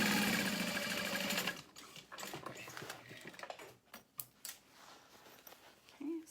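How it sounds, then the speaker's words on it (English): A sewing machine stitching a crossbody bag along a stitch line: a steady, close mechanical whir at first, then quieter intermittent clicks and short runs of stitching. "And then sew, just coming in a little ways from my original stitch line,"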